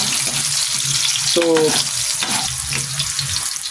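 Ginger frying in oil in a pan, a steady sizzle with a brief clink of utensils partway through.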